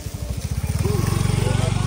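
A motorbike engine idles and revs close by in the Philippines, its rapid pulsing exhaust thump steady and loud, quickening over the short stretch while voices chatter faintly around it.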